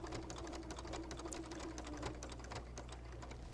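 A sewing machine runs steadily, stitching along the edge of an appliqué on a quilted wall hanging, its fast needle rattle continuous and close with a low motor hum underneath, no voices.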